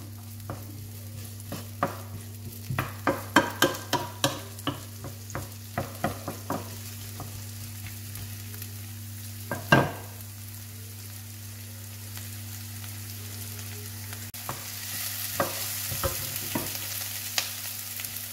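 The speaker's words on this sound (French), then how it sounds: "On va mettre les oignons." Onions fry over high heat in a pan, a steady hiss under a quick run of sharp clacks as they are stirred, then a calmer sizzle with only a few scattered scrapes.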